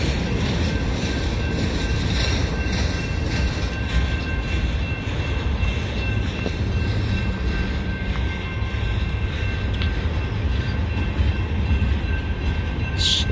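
A Union Pacific intermodal freight train rolls past a road crossing while slowing, with a steady close rumble of wagons and faint clickety-clack and wheel squeal throughout.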